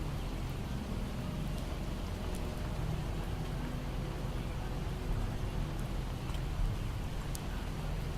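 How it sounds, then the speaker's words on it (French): Steady rain falls throughout a Project Zomboid game scene, a dense, even hiss of rainfall with occasional brighter drops and no talking. "Il pleut."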